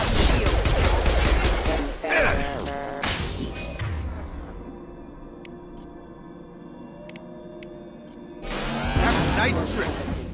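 Heavy gunfire and combat in the Mass Effect 2 video game, dense bursts opening the clip then dropping away to a quiet hum with sparse clicks before another loud burst of shots near the end, with voices calling out over it.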